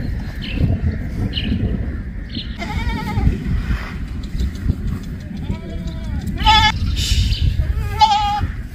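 Goats on a goat farm, six does and one breeding buck, bleat several times at close range over a steady rumble of background noise, with voices talking nearby.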